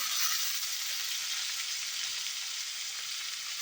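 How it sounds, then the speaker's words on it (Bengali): Chili soya fries in a pan over the gas flame, making a loud, continuous, even sizzle close by, with no talking. "এবার আমি এটাকে ভালো করে ভাজাটা করে নেবো মিডলে দিয়ে, গ্যাসটা বাড়িয়ে নিই"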